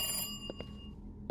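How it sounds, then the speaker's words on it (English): A telephone rings inside an abandoned orphanage, with a bright electronic ring at the start that fades, followed by a few faint knocks and creaks in the quiet building. "there's another phone ringing too"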